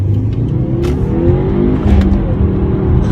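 A 2018 Subaru WRX fitted with an upgraded gearbox accelerates hard, its engine rising in pitch through a steady loud drone with brief surges between gears, recorded close and without speech.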